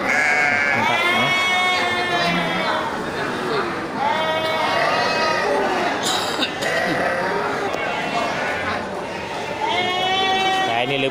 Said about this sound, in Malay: Ya, domba jantan.